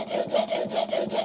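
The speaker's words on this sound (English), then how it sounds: "So I do about 10 roll rubs on that side." A plane blade is rubbed back and forth on a sharpening surface in a steady rhythm of about six close, gritty strokes, loud and with no talk.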